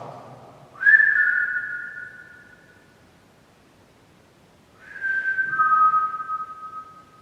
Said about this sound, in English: If I whistle, you whistle back.